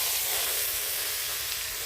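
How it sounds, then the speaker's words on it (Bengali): Large rohu fish heads fry in hot oil in a wok, giving a loud, steady sizzle and hiss that stays close and constant throughout, with no voices. "প্রথমত আমি মাছের মাথাগুলো ভেজে নিচ্ছি।"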